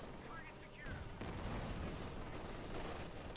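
Machine gun fire in the World War II strategy game Company of Heroes 2, dense bursts of rapid gunfire and battle noise sitting steadily under a commentator's voice throughout.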